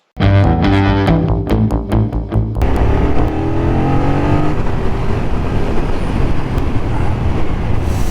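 A 2023 BMW F 900 R naked motorcycle revs up through the gears and then cruises on a motorway under loud, constant wind and road roar, with no talking.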